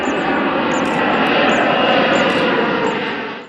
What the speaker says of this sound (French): j'ai plus le ressenti d'entendre un avion qui décolle gentiment